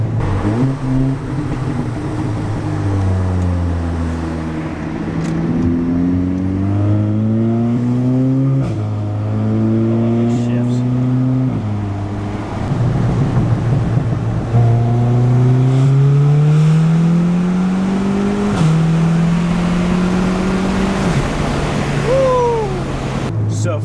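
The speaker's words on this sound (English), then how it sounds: "you'll be able to launch from a higher RPM" A 500 HP big-turbo Audi S3 accelerating hard through several gear shifts, its engine note rising and dropping repeatedly, loud and close with wind noise throughout.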